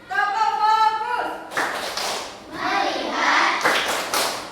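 Classroom focus clap routine by a teacher and pupils, rhythmic bursts of clapping and tapping mixed with children's chanting voices, close and fairly loud.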